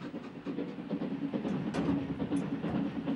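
A PLM steam train rolling along the railway in 1930s Algeria, a steady rumbling carriage noise with soft rhythmic clatter from the wheels and faint hiss, continuous and close throughout.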